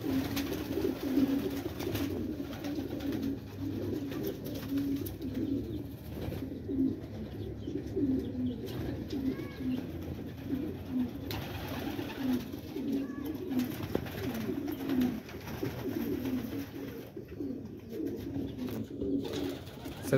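A young sabz maina pigeon coos steadily in a repeating low rhythm, near and clear over a soft background hum, with faint chirps from other birds now and then.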